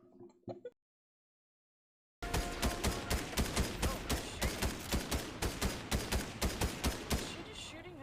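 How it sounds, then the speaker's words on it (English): Rapid automatic gunfire from the video game Starfield, a loud, close stream of evenly spaced shots that runs without a break after a short silence and a brief spoken voice at the start. "Is she just shooting herself? Shooting at us."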